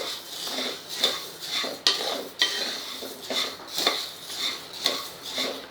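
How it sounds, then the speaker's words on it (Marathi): Coriander and cumin seeds dry-roasting in a pan over low gas, a spatula scraping and stirring them in steady, rhythmic strokes with light rattling, fairly close and alone. "आणि आता बारीक गॅसवर छान भाजून घेऊया"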